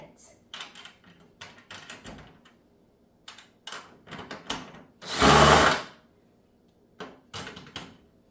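Short bursts of a power drill tightening bolts on a garden bed kit, one longer sustained run in the middle, with clanks and tool handling between.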